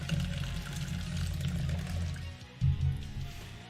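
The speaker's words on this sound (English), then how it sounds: "Pouring some water here. That's what you're hearing." Water pours into a container nearby, a steady liquid rush that fades briefly and then surges again, with no talk over it.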